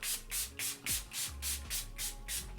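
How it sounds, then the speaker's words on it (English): A fine mist sprayer fires in quick repeated bursts, about eight soft hissing puffs in a steady rhythm, close and fairly quiet. "I'm just gonna spray my face with this before I do my next steps"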